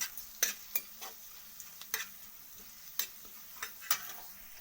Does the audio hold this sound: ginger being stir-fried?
yes